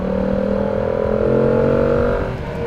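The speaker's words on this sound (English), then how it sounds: "I really don't like the throttle response of this bike, how it revs up" A 2025 Yamaha MT-07 motorcycle engine runs steadily close by, its pitch rising gradually as it revs up before easing off near the end.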